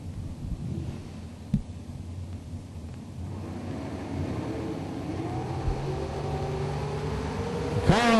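Drag racing engines rumble at the start line, rising into a swelling rev with climbing pitch toward the end, and a sharp burst sounds just before the close.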